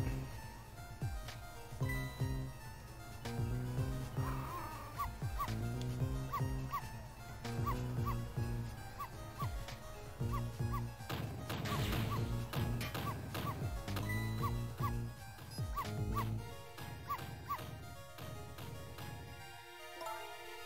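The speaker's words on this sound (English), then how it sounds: "No, Missile, you're not supposed to bark." A dog barking in the video game Ghost Trick: repeated sharp yips and barks over looping game music and clattering effects, with a crash near the middle.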